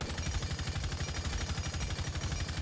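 Rainbow Six Siege M762 rifle with a compensator attached fires a continuous automatic burst, a fast steady stream of loud shots lasting over two seconds, with no talking over it.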